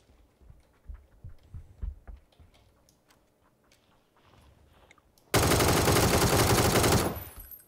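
MK14 rifle fire in PUBG: Battlegrounds, a loud sustained burst of rapid shots lasting under two seconds that cuts in abruptly after quieter thuds and ambient game sound.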